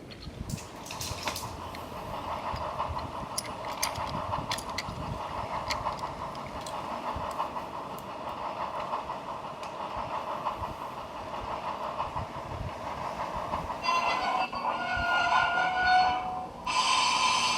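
A steam train rumbles and clatters along the rails nearby, with a steady mechanical drone and occasional metallic squeals, no voices.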